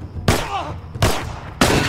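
Rifle shots in the post-apocalyptic survival video game The Last of Us, three loud sharp cracks spaced about a second apart, each trailing off quickly, with a faint brief voice between.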